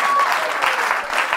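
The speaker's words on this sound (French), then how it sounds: "On peut encore applaudir Maureen." Audience applause at a live stand-up comedy show, a brief burst of dense clapping from the crowd, loud and close, with a few stray voices faintly mixed in.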